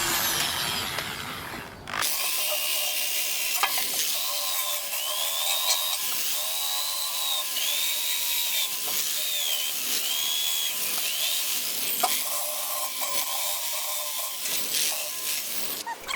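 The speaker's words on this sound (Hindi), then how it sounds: "हम पीतल के ब्रश का इस्तेमाल करेंगे, क्योंकि यहाँ सिर्फ कैल्शियम डिपॉजिट्स हैं।" A brass wire brush, probably power-driven, scrubs calcium deposits from the drum of an old IFB Executive Plus washing machine during an overhaul. It makes a continuous harsh, high whining scour with rhythmic scraping strokes throughout and no speech.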